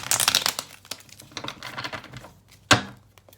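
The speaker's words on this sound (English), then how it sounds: "Sorry for the loud shuffling." Tarot cards shuffled loudly, a dense burst of crisp papery rustling and riffling that settles into looser crinkles before one sharp slap near the end, with no speech.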